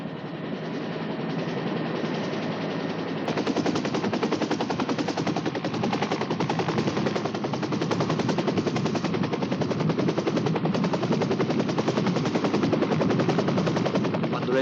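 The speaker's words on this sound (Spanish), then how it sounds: "Cuando el helicóptero despegaba de la laguna del Rey Leopoldo" A loud, steady rotor chop and engine roar fill the whole stretch, growing slightly stronger partway through as the helicopter powers up and takes off from a mountain lake.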